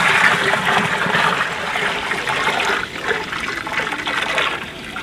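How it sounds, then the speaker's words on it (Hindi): Water swirls and rushes steadily in a container as humic acid is mixed into clean water, a loud continuous churning and trickling that eases slightly partway through. "हमने साफ पानी भर लिया है और इसमें हम सबसे पहले ह्यूमिक एसिड को मिक्स करते हैं।"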